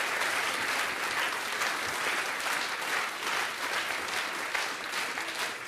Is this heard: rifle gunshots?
no